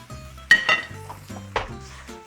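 Beef chow fun is stir-fried in a wok, with a few loud metallic clanks and scrapes of a spatula against the pan over a low sizzle, close up and irregular.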